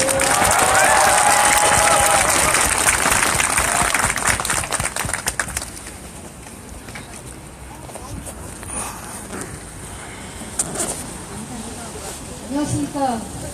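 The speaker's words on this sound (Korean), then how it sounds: "박 금자님을 박수로 환영해 주십시오" Crowd at a victims' rally applauding a speaker, loud clapping and some cheering for the first few seconds that fades into milling crowd noise, footsteps and scattered voices.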